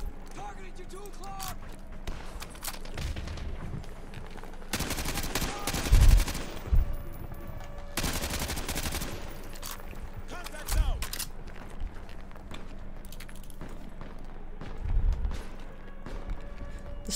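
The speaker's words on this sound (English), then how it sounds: "someone shooting over there." Bursts of gunfire in Call of Duty Modern Warfare 2 Remastered, with heavy volleys clustered mid-clip and scattered shots later, moderately close, mixed with footsteps and game ambience and interrupted by occasional talk.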